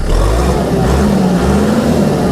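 A Kubota MK5000 tractor's 50 horsepower engine revs up, a loud, close, deep rumble climbing gradually in pitch over a few seconds with no talk.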